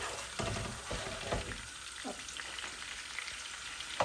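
Butter melts in a pan with a soft, steady sizzle and a few stirring scrapes, quiet and close, with no talking.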